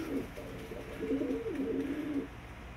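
A high fly pigeon coos nearby in low, rolling calls, two or three in a row, with a steady hiss of ambient noise behind it.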